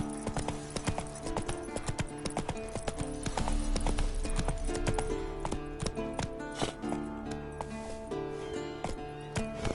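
Roach the horse gallops in The Witcher 3, her hooves pounding a fast, steady rhythm close by for several seconds.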